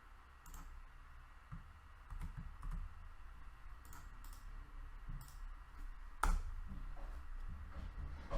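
Fingers tap on a computer keyboard while typing a command to install a Python file, with soft, irregular clicks and key presses, quiet and close, and one sharper keystroke near the end.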